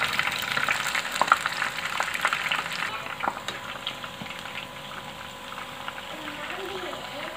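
Soybeans dipped in rice batter deep frying in hot oil, a dense bubbling sizzle with occasional clicks of a utensil, the frying gradually settling to a quieter, even hiss.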